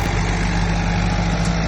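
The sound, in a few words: Mahindra and John Deere tractor engines in tractor tug-of-war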